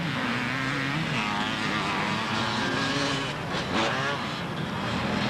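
A 370 air-cooled Suzuki races on the sand at the Southport beach race, its engine buzzing and shifting in pitch against a steady wash of crowd and wind noise.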